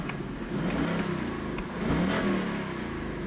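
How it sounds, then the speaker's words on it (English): A 2024 Ford Mustang GT V8 engine revs up and settles with its exhaust closed, a muffled, throaty exhaust note rising twice over a steady idle. "I'm gonna rev it."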